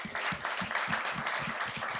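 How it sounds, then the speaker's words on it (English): Conference audience at a music and technology event applauding, a brief burst of full, close clapping with a slightly pulsing rhythm and no talk over it. "Round of applause, please."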